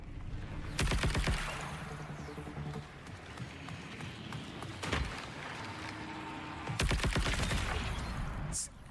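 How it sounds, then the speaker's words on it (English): Video game gunfire with bursts of rapid shots clustered in a few loud volleys, separated by calmer stretches of ambient background noise. "Now I'm gonna shoot you."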